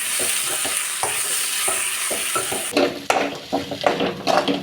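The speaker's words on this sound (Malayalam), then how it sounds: "ഇനി സവാള ബ്രൗൺ നിറമാകുന്നത് വരെ നന്നായിട്ടൊന്ന് വഴറ്റിയെടുക്കണം" Onions sizzle in a pan while a spatula stirs and scrapes them in repeated strokes, browning them for duck curry, the clatter growing busier toward the end.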